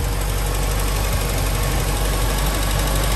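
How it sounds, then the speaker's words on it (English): A 1500 engine in an MG Midget idles steadily, a continuous, smooth mechanical hum with a faint ticking rhythm, close and fairly loud throughout with no talk over it. "And the engine runs like a little sewing machine."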